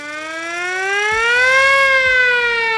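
A hand-cranked siren on a 1927 fire engine winds up loud and close in a steady rising wail that holds near its peak, with faint mechanical clunks from the crank underneath.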